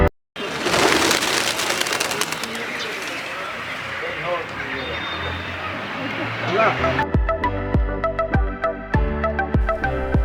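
A flock of pigeons at a temple in Srinagar flutters and coos amid steady outdoor noise, wings whirring, followed by rhythmic bell-like clangs near the end.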